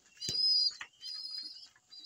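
Pigeons in a loft, with soft coos and chirps close by, broken by short pauses.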